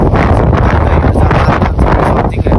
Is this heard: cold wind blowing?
yes